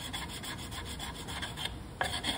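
Sandpaper rubs by hand over a wooden flintlock rifle stock in steady back-and-forth strokes, a soft close rasp with no talk.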